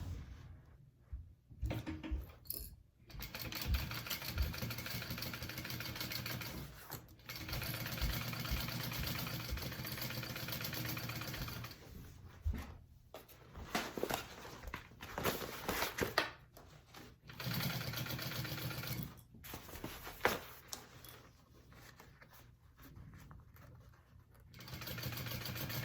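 A sewing machine top-stitching a backpack, running in long steady bursts of fast mechanical whirring separated by short pauses, fairly close and without talk.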